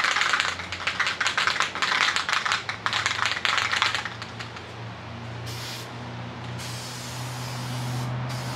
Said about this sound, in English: Let's give the can a little bit more of a shake.